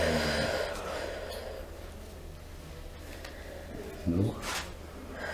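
A patient draws a deep, sharp inhalation during chiropractic therapy on the legs and neck, one audible gasp-like breath near the end against a faint hiss of room noise.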